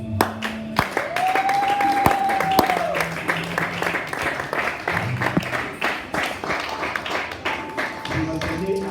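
A church congregation at a Sunday worship service cheers and applauds, with dense clapping that swells and fades and a voice speaking over it. Sustained tones from instruments ring through the crowd noise.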